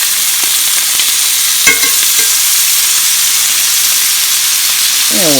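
Half a stick of butter sizzling and spitting in a hot skillet around pork chops, a steady bright frying hiss with a few soft clinks and shifts, no voices.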